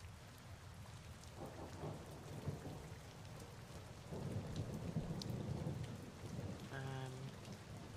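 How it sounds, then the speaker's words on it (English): Quiet rain patters steadily on a surface, with low rumbles of thunder rising and swelling in the middle, then a short tonal harmonic sound near the end; the whole soundscape is faint and distant. "We've got some louder rain noises."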